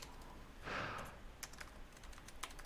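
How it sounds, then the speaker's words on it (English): Typing on an Asus Zephyrus G15 laptop keyboard: a quiet burst of rapid keystrokes followed by scattered individual key clicks, close and alone. "So this is a typing test."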